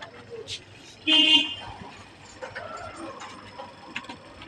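A wedding card printing machine runs on 400 gram board with a mechanical whir and ratcheting clatter, plus one louder clunk partway through and lighter ticks after it. Someone talks faintly in the background.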